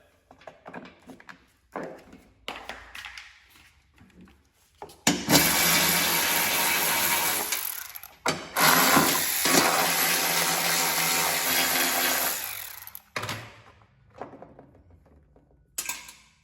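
A 3/8 socket driven against the bolts of the deck cover on a Husqvarna YTH 2246 lawn tractor makes loud, sustained whirring bursts of several seconds each, separated by quieter clicks and handling noises.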